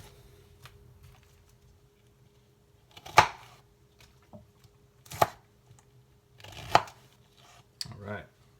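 Vegetables for roasting are chopped on a board with a knife, giving four distinct, well-spaced thuds close up in an otherwise quiet kitchen.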